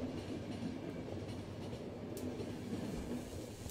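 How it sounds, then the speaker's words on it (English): A train in the video game The Final Station rumbles along steadily with faint rhythmic rail clatter and a low hum, with no talking. "He's right, this train is falling apart."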